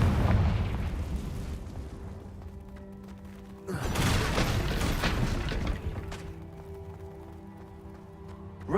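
A Confringo fire spell explodes in a Harry Potter wizard video game, with a deep rumbling blast at the start and a second broad, roaring burst midway that fades into a low lingering hum.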